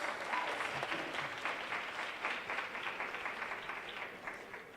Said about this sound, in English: Give our MCs another round of applause.